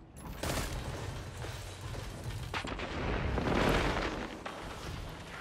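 Shotgun blasts in a Destiny 2 PvP match, several booming reports with rumbling tails mixed among other game effects, fairly loud and close with no talk over them.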